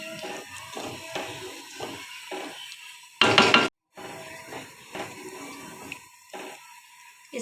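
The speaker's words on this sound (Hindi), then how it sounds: "अब हमने इसमें चावल भी डाल दिए यखनी में। अब हम इसको मिक्स कर देंगे।" Soaked rice is stirred into chicken stock (yakhni) in a pot for chicken pulao, giving wet sloshing and soft scraping strokes in an irregular rhythm, with one brief louder splashing burst midway.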